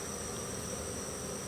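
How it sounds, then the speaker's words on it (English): Honeybees from a caught swarm buzz around the entrance of a hive, a steady, dense drone holding at an even level for the whole moment with no voices over it. "I'm also happy to see that there are bees going in the entrance"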